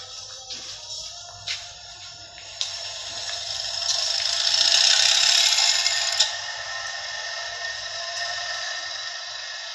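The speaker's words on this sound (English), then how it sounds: "The motor starts to run." A single-phase induction motor on a lab bench, fed through an autotransformer at no load, runs with a steady mechanical whir and faint rattle that swells in the middle and then settles, with a few sharp clicks.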